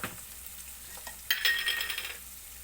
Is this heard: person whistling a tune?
no